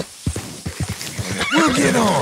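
A horse in a Red Dead Redemption–style western game whinnies loudly and close near the end, after a run of short thumping steps and brief vocal sounds.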